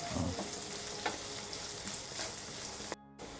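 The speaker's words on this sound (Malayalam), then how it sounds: "നമുക്കൊന്ന് എല്ലാം കൂടി ഒന്ന് വഴറ്റിയെടുക്കണം" Dry prawns, kanthari chillies and other pickle ingredients sauté in a pan with a steady, close sizzle and occasional stirring scrapes, broken by a brief dropout near the end.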